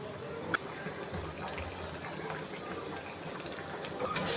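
Spiced paste loosened with curry broth pours into a pan of simmering Bangladeshi fish curry, a steady soft liquid gush and bubbling that runs throughout, with one sharp clink near the start.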